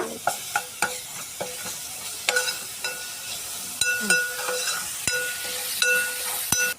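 Prawn masala with ginger paste sizzles in a pan while a spoon stirs it, giving a steady frying hiss broken by regular scraping and clinking strokes. The sound is close and clear, with no voices.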